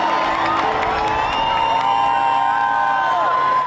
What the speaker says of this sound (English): Adoring and excited crowds of thousands met him at many of his engagements